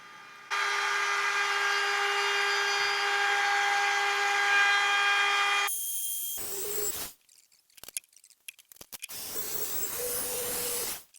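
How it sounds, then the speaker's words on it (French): A Makita trim router chamfers the edges of wooden kitchen shelves, a loud steady high whine running for about five seconds, then cutting off, followed by quieter handling noises and a second shorter burst of motor noise. "Pour faire les chanfreins, je me sers de mon affleureuse Makita."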